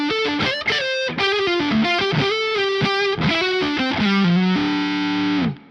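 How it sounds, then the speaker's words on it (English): Electric guitar on the neck pickup through a ParaEq MKII mid-forward boost, with a creamy, vocal overdriven lead tone. Quick melodic phrases and bends lead into a long held note, loud and close, with no voices. "Sounds really creamy and very vocal in mid-forward."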